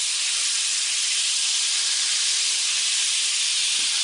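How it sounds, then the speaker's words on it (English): Butter melting in a hot pan for blackened catfish, giving a steady, dense hiss that holds unbroken at close range with no talk over it. "Let that butter melt real good."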